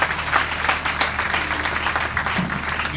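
A church congregation applauds Jesus in a sustained, dense burst of clapping that fills the space evenly, with a few voices mixed faintly into the crowd.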